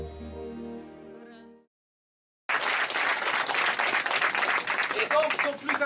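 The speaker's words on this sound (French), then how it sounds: "Merci d'applaudir un tonnerre d'applaudissements pour Tsujimoto Ryozo-san." Audience in a hall bursts into loud, sustained applause for Tsujimoto Ryozo, clapping and crowd noise close and dense for several seconds after a brief silence, with a spoken voice over music before it.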